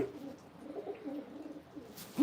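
A racing pigeon coos softly in low, throaty, repeated rolls close by, with a faint rustle at the end.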